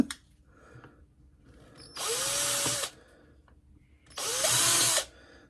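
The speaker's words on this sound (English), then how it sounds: "It's just basically using a hand drill for most of this stuff." A hand drill whirs in two bursts of about a second each while building a cigar box guitar, separated by a pause with faint handling noises, close and fairly loud.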